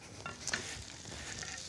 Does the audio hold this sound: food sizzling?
yes